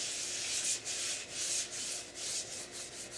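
Paper towel dipped in oil is rubbed over the surface of a cast iron wok, a soft steady swishing scrape repeating in back-and-forth strokes, close and fairly quiet with no talking.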